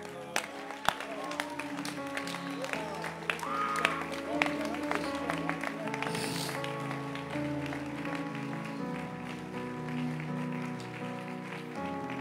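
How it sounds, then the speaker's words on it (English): In a church service, the congregation claps along under sustained keyboard or organ music, the rhythmic hand claps mixed into the steady musical backing throughout. "Keep clapping your hands."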